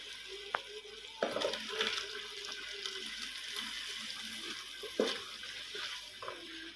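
Tomato juice poured into a hot pan for stuffed eggplant gives a soft, steady sizzle and bubbling. Faint splashes and a few clinks and knocks of utensils sound close by, quiet overall, with no talking.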